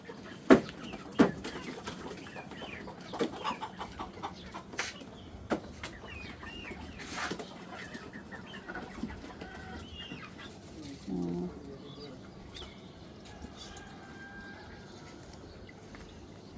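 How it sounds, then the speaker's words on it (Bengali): Native chickens cluck in short, scattered bursts at moderate distance on a rooftop garden, with sharp clicks and quiet outdoor background between the calls. "মুরগি দেশি মুরগি"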